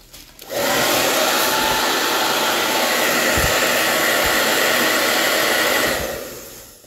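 Hair dryer blowing on a freshly made vintage decoupage painting with gold leaf; loud, steady whooshing airflow switches on abruptly, runs evenly for about six seconds, then cuts off, with no talking.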